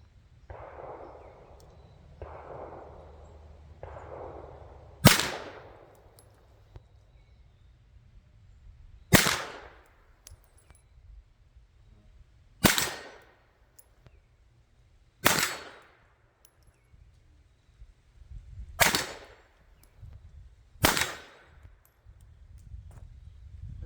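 Six crisp, loud pistol shots from a German Artillery Luger on an outdoor range, spaced a few seconds apart, each with a short echoing tail. Softer muffled thumps come before the first shot.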